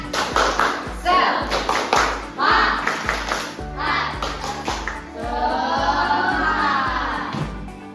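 A primary school class claps a quick rhythmic pattern in unison, loud and near, with children's voices and chatter mixed in toward the end.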